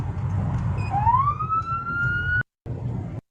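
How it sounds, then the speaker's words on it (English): A police car siren wails nearby, rising in a long upward sweep before holding steady, then cuts off abruptly; an engine rumbles underneath. "every time you hear the siren, that's them going through an intersection"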